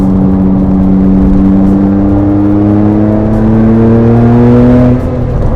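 A Rossion Q1 engine pulls hard under full turbo boost, a loud, close, steadily rising drone that climbs in pitch for about five seconds before easing off abruptly.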